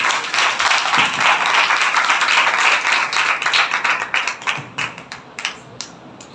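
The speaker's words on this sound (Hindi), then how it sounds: "और कलाम के लिए जोरदार ताली।" A church congregation claps loudly after a pastor's sermon, dense, vigorous clapping that holds strong for about four seconds, then breaks into scattered, separate claps as it dies away.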